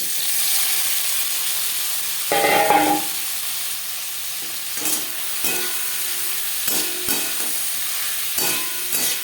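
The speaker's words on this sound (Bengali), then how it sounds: "কড়াইতে আবারও তেল দিয়েছি দিয়ে দেবো পেঁয়াজ কুচি আর টমেটো" Chopped onion and tomato hit hot oil in a wok-like karai for a spicy tilapia fish curry, producing a continuous sizzle broken by scattered clinks and scrapes of stirring, with no talking.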